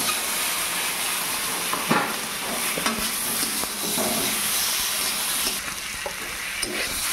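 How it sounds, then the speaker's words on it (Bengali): Potatoes and boiled eggs dropped into a frying pan of spiced egg curry masala with chilli powder, giving a steady loud sizzle and hiss with a few scraping stirs, close up and without talk. "এখন এর মধ্যে দিয়ে দেব এই আলু আর ডিমগুলো"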